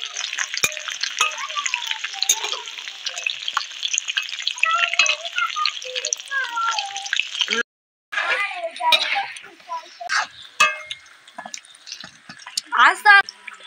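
Meat pakoras deep-fry in hot oil with dense, crackling bubbling and spitting that comes in bursts and breaks off briefly partway through. A voice speaks now and then over the frying.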